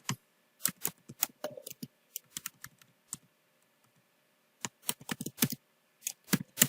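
Close-up keystrokes on a computer keyboard as C code is entered, coming in uneven bursts of quick clacks separated by short pauses, clear and moderately quiet with no voices.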